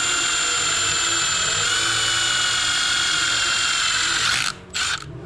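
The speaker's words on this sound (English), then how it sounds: "drill a hole in it right here" A power drill bores a hole into a RZR portal box seal, a steady high whine held close for several seconds before cutting out briefly and restarting.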